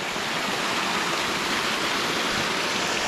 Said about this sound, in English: another stream coming in from the side here